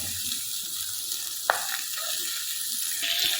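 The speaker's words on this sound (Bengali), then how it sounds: "ভালো করে তেল পোড়ার সাথে ভেজে নেবো পেঁয়াজগুলো" Onions frying in oil with turmeric in a pan, a steady close sizzle throughout with one sharp clink partway through and no voices.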